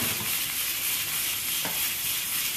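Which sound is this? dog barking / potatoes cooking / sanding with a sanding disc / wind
potatoes cooking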